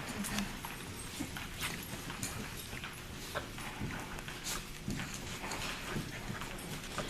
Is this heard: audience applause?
no